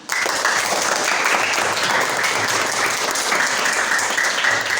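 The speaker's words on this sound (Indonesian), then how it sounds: "Bagus, tepuk tangan." Classroom students burst into loud, dense applause after a sudden start, clapping steadily and close for several seconds.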